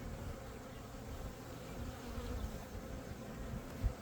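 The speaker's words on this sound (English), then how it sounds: "Still an awful lot of bees in here." Dense, steady buzzing of many bees inside a hive after a nuc was combined using the newspaper method, a low continuous drone heard close up with no talking.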